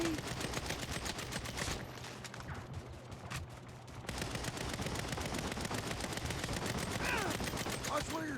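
Loud, sustained gunfire rattles through a Saints Row (2022) firefight, dense bursts dipping briefly before resuming, with a voice speaking over the shooting.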